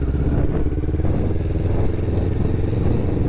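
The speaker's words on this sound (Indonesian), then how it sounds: "Tapi kalau kalian gas, gila ini motor torsinya." A Kawasaki Ninja 650 motorcycle engine revs and accelerates with a dense, steady growl and mechanical clatter, heard close and loud.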